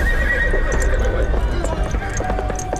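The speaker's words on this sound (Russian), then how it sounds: "зачем ты сел на самую свирепую лошадь?" Horse neighing with hooves clip-clopping in a period drama scene, a close, loud whinny over a steady rapid beat of hoofbeats.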